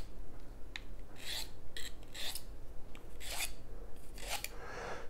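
A blade is sharpened on a very abrasive sharpener in small, quick strokes, a close rasping scrape repeated about five times at a steady rhythm.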